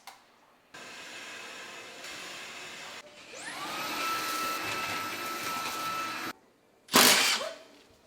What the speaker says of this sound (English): You try to line them up and you hook it to your vacuum because it makes a lot of dust